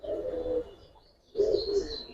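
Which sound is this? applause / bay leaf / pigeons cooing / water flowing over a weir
pigeons cooing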